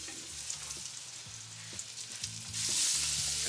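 Beef pieces sear in hot oil in a firehouse kitchen pan, a steady close sizzle that swells louder toward the end, with faint clinks of stirring or handling under it.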